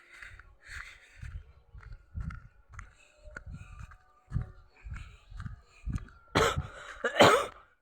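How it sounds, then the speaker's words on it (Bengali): A person coughs repeatedly in short, harsh bursts, more than a dozen coughs spaced irregularly, with a couple of louder, sharper coughs near the end, close and alone without speech. "আপনারা দেখতে পাচ্ছ কুয়াশে আমার কাশি হয়ে গেছে"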